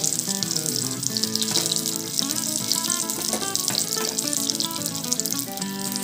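Cashew nuts frying in two tablespoons of hot ghee in a pan, giving a steady, dense, hissing sizzle that stays loud and close throughout with no talk.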